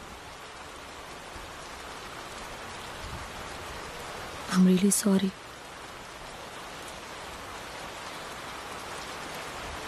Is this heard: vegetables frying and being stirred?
no